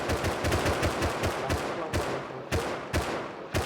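An AK rifle in the game Rust fires in rapid automatic bursts, loud and close, the rattling shots coming fast with brief pauses between strings.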